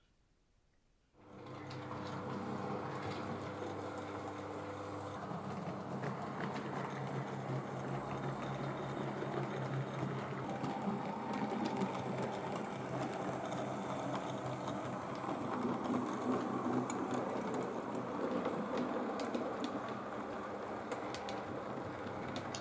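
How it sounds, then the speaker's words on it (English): A DJH small motor gearbox running in a Crownline J17 model locomotive, giving a steady, smooth mechanical whir that starts abruptly and holds an even level, close and alone. "This is a Crownline J17, and once again I've chosen the DJH motor gearbox combination, the small one. They are absolutely super smooth."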